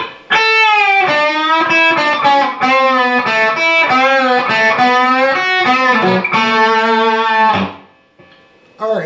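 Distorted electric guitar playing the outro solo of a song, a run of bent and pre-bent sustained notes with a wavering vibrato, loud and close, ending in a brief pause.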